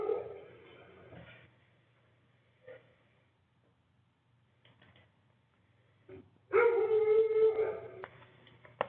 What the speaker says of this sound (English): that was my dog howling